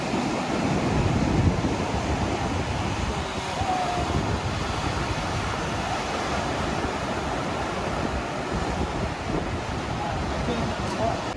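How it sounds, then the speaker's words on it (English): Powerful ocean waves crash against rocks on the Donghae coast of South Korea, heard as a steady, loud roar of surf and wind buffeting the microphone, with no talking. "you get an amazing view of the powerful waves crashing against the rocks"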